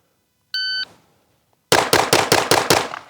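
A shot timer at a shooting range gives a single sharp electronic start beep, then after a short pause a rapid string of about six loud, close handgun shots, fired with a Glock and a Staccato pistol.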